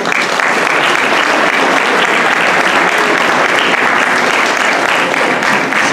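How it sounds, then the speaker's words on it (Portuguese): Sustained, dense applause from a large audience at a Portuguese folk dance group (rancho) performance in Folgosa, Maia, steady and loud throughout with no pauses. "peço um forte aplauso para eles"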